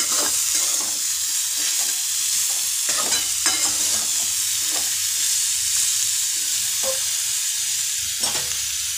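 Jaggery being stirred into pumpkin bhaji in a pan, a steady low sizzle with repeated scraping strokes of the spoon against the pan, close and continuous with no voices.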